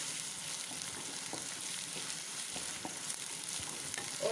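Carrot and capsicum sautéing for corn fried rice, a steady close sizzle and crackle of frying with occasional light stirring scrapes, no voices.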